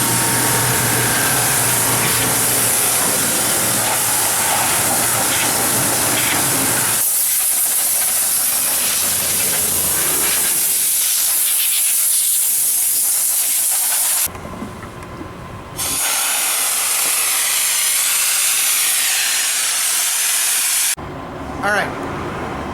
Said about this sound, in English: we're going to steam clean the interior of this